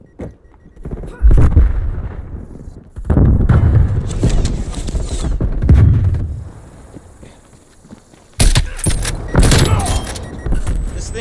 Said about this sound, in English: Hostile artillery targeting active. Artillery inbound.